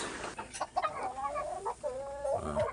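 Several Ayam Kitawa hens clucking and murmuring close by, a run of short throaty clucks with a few drawn-out calls, over faint background noise.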